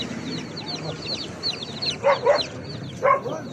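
Several chickens cluck in short bursts, with high peeping from three-day-old chicks throughout and a murmur of background noise at a busy spring poultry market.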